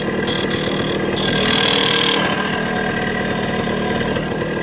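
A 1975 Montesa Enduro 250 motorcycle engine runs steadily at idle nearby, a continuous mid-pitched mechanical drone with a brief swell in the middle, heard alone without talk.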